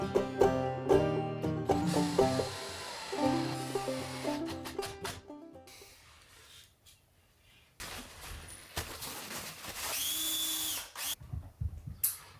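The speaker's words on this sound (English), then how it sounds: "I just made sure to pre-drill every joint and add wood glue as well" A power drill pre-drills joints in wooden 2x2s for a small cabin dinette, whirring in several short, close bursts with pauses between runs.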